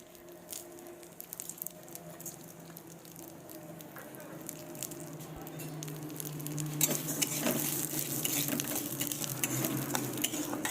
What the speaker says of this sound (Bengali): তো বন্ধুরা আগে আমি ডালটা ভেজে নেব।